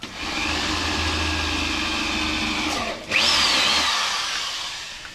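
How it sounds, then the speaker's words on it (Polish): A power drill with a roughly 6 mm bit whines steadily while drilling small holes, dips briefly as it stops, then revs up again with a rising pitch before trailing off. "to bierzemy i wywiercamy. Wiertu chyba szóstka."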